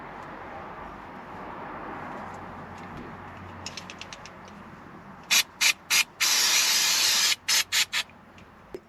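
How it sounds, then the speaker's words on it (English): A series of short, sharp silicone aerosol spray bursts hiss close by onto a cloth, with one longer spray in the middle, after a quiet rubbing stretch. "spray it onto the cloth"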